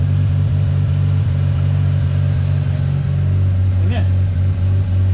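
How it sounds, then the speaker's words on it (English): The rotary engine of a Mazda FC RX7 runs after a radiator install, a steady deep thrum close by with slight rises in revs, and a person briefly talks over it. "So just got it running, giving it some revs,"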